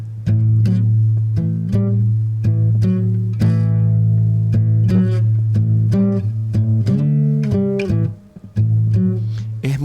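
Blues music from a cassette plays loud and close, with a heavy, steady drum pulse and low bass under sustained harmonic chords. The music runs continuously, with one brief drop near the end.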